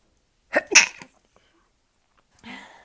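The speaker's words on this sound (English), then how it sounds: "Excuse me, I'm about to sneeze." One sharp human sneeze bursts out close and loud, followed after a pause by a brief softer exhale or sniff, otherwise quiet.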